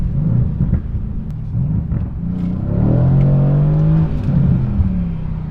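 A twin-turbo Mercedes-AMG making over 500 horsepower accelerates hard, its engine note rising steadily into a loud, sustained drone that settles back near the end.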